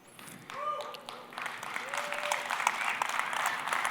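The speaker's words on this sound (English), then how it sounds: "I'm not used to this level of applause, but keep it going" A conference audience at the GV Forum during NAB 2023 breaks into applause that swells within a second and holds steady as a dense wash of clapping, with a voice briefly heard over it.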